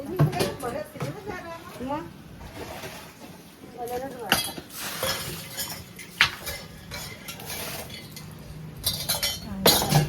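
Metal utensils clinking and clattering as freshly washed dishes are set aside during a temple clean-up, sharp scattered clinks over splashing and voices talking nearby.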